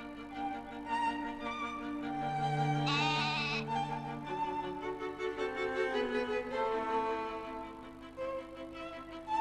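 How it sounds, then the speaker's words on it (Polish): Sheep bleating in a children's animal-learning programme, a sustained wavering bleat mixed over soft background music, moderately loud and steady, with no talking. "To owca."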